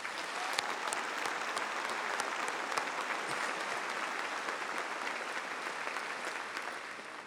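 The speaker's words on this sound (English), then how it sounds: "Let's have a round of applause for these folks." Large audience applauding at a university spring graduation ceremony in a big hall, a sustained even wash of many hands clapping, distant and steady throughout with no speech.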